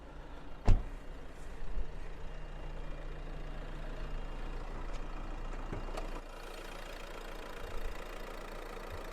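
A Renault Megane 4 car engine idles steadily with a low, even rumble, preceded by a sharp knock near the start and a few faint clicks later on.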